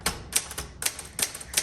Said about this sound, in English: So let's go ahead and do our typing demo.